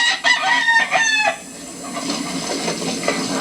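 Rooster in a holding pen crows loudly and clucks near the start, followed by softer fowl clucking and pen noise, with no talk.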